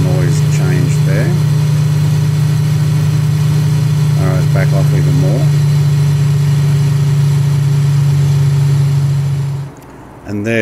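Focke-Wulf FW 190-A4 piston engine in a flight simulator, a loud, steady low drone holding constant throughout, then cutting out abruptly near the end, with someone talking over it.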